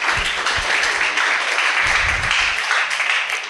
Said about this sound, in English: once again, a round of applause for Jay for coming sure.